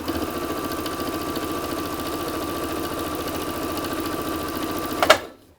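A Singer Quantum Stylist 9960 sewing machine, fitted with a size 90/14 general-purpose needle, stitches through eight layers of cotton. It runs at a fast, steady, mechanical whir close up, then stops abruptly with a brief clack.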